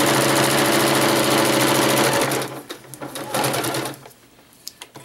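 Sewing machine stitching a quilted sewing machine cover, running loud and steady for about two seconds, then slowing into short, uneven bursts of stitching with brief pauses between.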